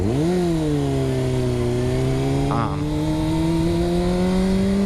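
Motorcycle engine while riding in traffic, a steady loud droning hum that rises slightly in pitch as it settles into a cruise, continuous with no pauses.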